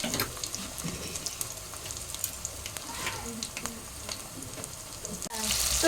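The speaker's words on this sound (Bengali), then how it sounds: "তো এগুলো ভাজা হয়ে যাবে একটা সাইড," Pakoras sizzling in hot cooking oil at home, frying on one side before being turned, with a continuous bubbling crackle, scattered sharp pops and a louder rush of hiss at the very end.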